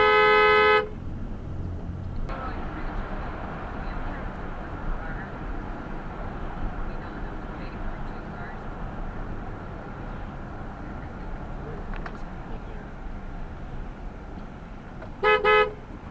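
A car horn blares in short bursts at the start and again near the end, loud and close, over a steady rumble of New Jersey traffic at a red light.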